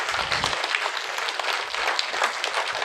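Audience applause at a youth spiritual talk programme, steady dense clapping from a crowd throughout, fairly loud and continuous without any voices.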